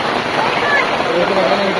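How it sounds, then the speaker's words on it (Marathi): Heavy pre-monsoon rain pours down in a village, a dense, steady, unbroken hiss and roar that stays loud throughout the short stretch. "जबरदस्त जोरात पाऊस चालू आहे"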